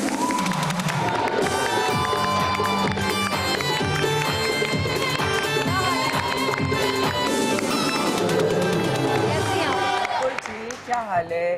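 A studio audience on a television entertainment show claps and cheers loudly to welcome a guest, with sustained applause and whoops over background music that swells throughout and fades briefly near the end.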